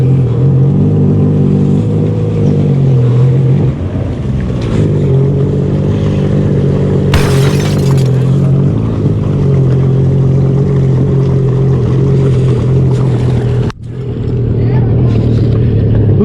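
A flats boat motor drones steadily and loudly throughout while moving through mangroves, with a brief dip near the end; voices are faintly audible over the engine.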